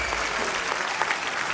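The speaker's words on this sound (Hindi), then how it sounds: "तालियां जोरदार होनी चाहिए।" Studio audience at a television comedy show breaks into loud, dense applause, a sustained wall of clapping that fills the whole stretch without pause.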